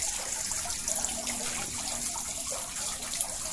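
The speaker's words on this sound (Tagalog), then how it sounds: "May fountain pa." A fountain trickles water into a school fish pond, giving a steady, soft continuous splash and hiss with no speech.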